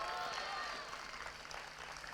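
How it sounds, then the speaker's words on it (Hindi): A church congregation at an annual convention clapping loudly together to thank the Lord, a steady dense wash of applause from a large crowd throughout. "कोई जोर से ताली बजा के प्रभु को धन्यवाद दे।"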